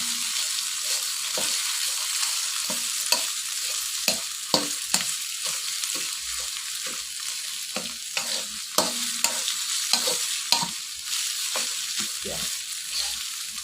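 Snails stir-fried with pounded, fragrant curry paste in a pan: steady close sizzling under repeated scraping and clacking stirring strokes, with no talk.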